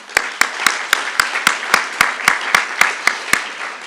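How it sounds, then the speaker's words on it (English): Convocation audience applause for the strategic planning committee chairs, heard as a steady train of sharp, evenly spaced claps, loud and close, about three per second. "Round of applause for these guys."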